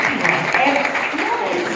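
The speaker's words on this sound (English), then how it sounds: "a round of applause." Applause for actress Shefali Shah at the trailer launch of the film Jalsa: a dense, steady crowd clapping with voices talking over it.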